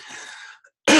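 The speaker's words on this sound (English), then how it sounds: "I'm sorry, y'all, for clearing my throat all the time." A person gives one short throat clear, close and fairly soft, then there is a brief silence before a sudden louder sound at the end.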